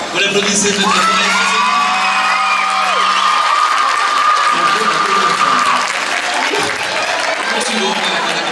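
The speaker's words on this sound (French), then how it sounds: "Vous l'applaudissez de notre part." Applause and cheering from an audience at a local queen pageant in Mèze, steady broadband clapping for the full length with whoops and shouts rising over it.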